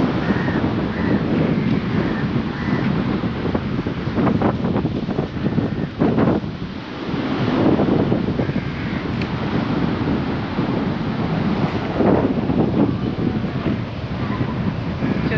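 Sea waves and strong wind at Mandarmani beach roar steadily throughout, with gusts buffeting the microphone and surf washing in continuously.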